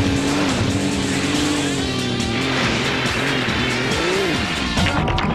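Car tires skidding and squealing in the Sega GT video game, a continuous loud wavering screech over engine roar, alone with no talk.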